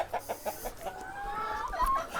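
Chickens in a chicken house on a farm of several hundred birds: a few short rhythmic clucks followed by a longer drawn-out squawking call, close and moderately loud.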